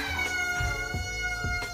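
Snowy, a pet cat, meows close by to be let out, a few drawn-out, insistent calls in quick succession with no one talking.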